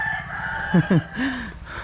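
Rooster crowing at a poultry farm: a short two-note crow followed by a drawn-out call, heard fairly close over steady background noise, with no one talking.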